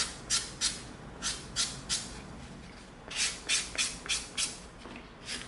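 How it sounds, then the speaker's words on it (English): Rhythmic scratchy rubbing strokes, about a dozen quick back-and-forth swipes of a 220-grit sanding stick on EVA foam in two bursts, close and moderately loud. "Now we're going to come in with our 220 sanding stick."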